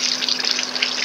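Steady rain pours down in a dense, even rush of water, loud and continuous without a break.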